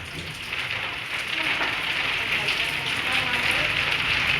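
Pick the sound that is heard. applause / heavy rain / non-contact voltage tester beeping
heavy rain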